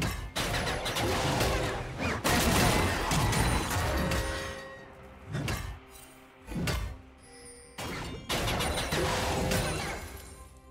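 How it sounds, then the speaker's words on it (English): A turret being destroyed in League of Legends, heard as a series of heavy crashes and booming impacts. Dense explosive bursts come first, then separate loud hits with short gaps between them. "Red Team's turret has been destroyed."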